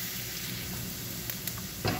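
Ground beef sizzles in a pan with onions and garlic, a close, steady frying hiss with a few small stirring clicks.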